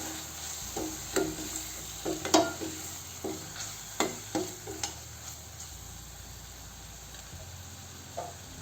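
Spoon stirs pav bhaji with added salt in a hot pan, giving intermittent scraping strokes over a soft sizzle. The strokes come closer together early on and thin out toward the end, with no voices.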